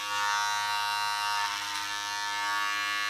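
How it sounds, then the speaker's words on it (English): An electric hair clipper buzzes steadily at close range while cutting a man's hair over a comb, a constant bright motor hum with slight changes in pitch as it moves through the hair. "We just let the clipper do all the work and we just come through gently."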